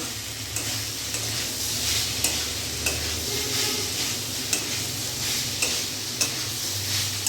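Fig (dumur) curry sautéing in a pan, with a steady close sizzle and rhythmic spatula stirring and scraping ticks, no voices present.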